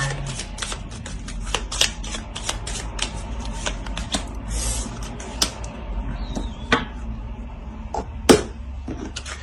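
Tarot cards are shuffled and drawn in quick, close riffling flurries, crisp flicks and slaps repeating over a low background hum, with one sharp snap near the end.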